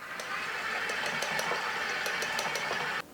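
Electric mixer churning a very thick, stiff chocolate chip cookie dough heavy with flour, a steady whirring motor hum with faint knocking as the beaters work the dough, running evenly for about three seconds before cutting off.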